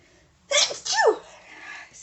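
A single close sneeze with a sharp sudden burst and trailing exhale, loud against a quiet room.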